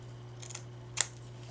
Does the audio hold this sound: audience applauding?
no